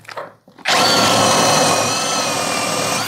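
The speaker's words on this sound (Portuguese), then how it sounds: "vou tentar fazer um furo no meio dela aqui" A 21V brushless cordless drill boring a 10 mm hole in hard wood: after a few faint bumps, the motor kicks in loud and stays as a steady, close, grinding whine with the bit biting into the wood.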